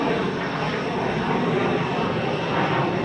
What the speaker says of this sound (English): So the Lufthansa is indeed an A319